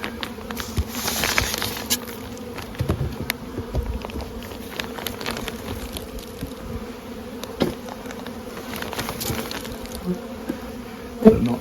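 Honeybees buzz continuously at the entrance of a hive during spring feeding, a steady dense hum with individual bees passing close now and then, no voices.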